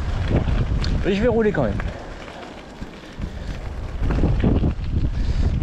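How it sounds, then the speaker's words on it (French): Strong gusts from storm Ciaran buffet the microphone during a mountain bike ride, a steady roaring rumble that swells louder near the end, with someone talking over it. "Il y a un bon coup de vent, quoi, comme ils avaient annoncé dans l'ouest."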